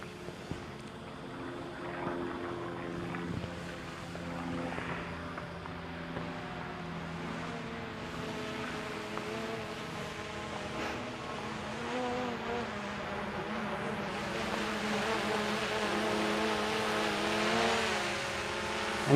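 A DJI Mavic drone hovers overhead, giving a steady, fairly loud motor whine with shifting tones that swell toward the end, heard alone without speech.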